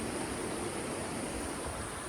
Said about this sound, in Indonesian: Ini ada sungai di sini nih.